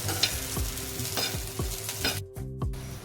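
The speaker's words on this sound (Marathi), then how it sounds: "आणि या चांगल्या आता परतून घ्यायच्यात आपल्याला एक तीन चार मिनिट चांगले आपल्याला परतवून घ्यायचे" Green chillies sizzle steadily in a hot pan for a traditional thecha, with repeated scraping stirs of a spatula cutting through the frying hiss at a close, even pace.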